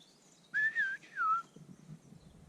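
A person whistles a short, clear melodic phrase in two bursts, mimicking a European robin's song, over faint background ambience.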